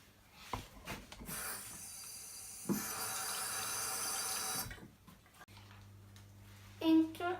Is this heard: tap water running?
yes